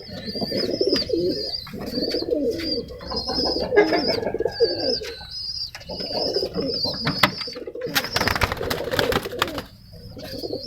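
Pigeons recovering from illness cooing close by, repeated low throaty coos in rolling phrases over most of the stretch, with occasional sharper chirps and a brief burst of noisy rustling near the end.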